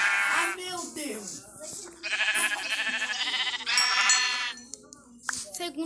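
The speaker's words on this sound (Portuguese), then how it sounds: "Ó, aqui já tem duas ovelhas." Sheep bleat in a video game, with several nasal, wavering calls in a row that sound close and fairly loud. A voice is heard around them.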